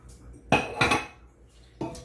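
Chopped artichokes and a spinach mixture tipped into a pot of cavatappi pasta give three sharp clanks of utensil against metal pot, with quieter clatter between.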